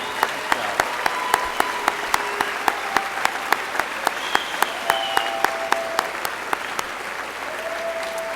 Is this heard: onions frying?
no